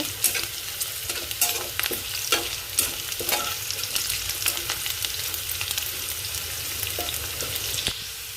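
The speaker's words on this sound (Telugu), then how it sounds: "ఉల్లిపాయ వేగిపోయింది కదండి" Onions frying in oil for a ridge gourd chutney, a bright, hissing sizzle close up with quick spatula taps and scrapes repeating through the first half, then steadier.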